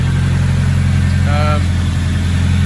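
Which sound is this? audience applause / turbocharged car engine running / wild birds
turbocharged car engine running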